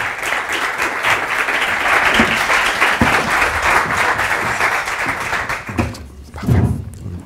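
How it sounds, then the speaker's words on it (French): An audience at a French tech and inclusion conference applauds to welcome the speakers, a dense, loud burst of many clapping hands that thins out near the end, with a few thumps and scattered sounds as it fades. "On peut les applaudir."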